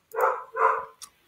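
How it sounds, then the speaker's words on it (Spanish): A pet dog barks indoors during an online talk: two loud, close barks in quick succession followed by a short, softer yip, with no one talking over them. "mi perro está ladrando"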